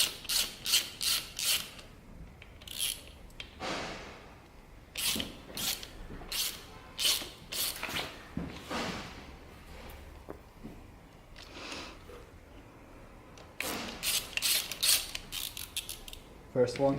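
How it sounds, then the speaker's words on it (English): Ratchet wrench clicking in quick bursts while backing out two transmission bolts on a Harley-Davidson Dyna, loud and close, with rhythmic ratcheting runs separated by brief pauses. "you have to take out these two bolts"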